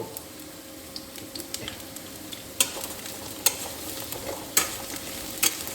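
Potatoes sizzle steadily in a small amount of oil in a pan, with a few sharper stirring clicks and scrapes punctuating the continuous close frying hiss.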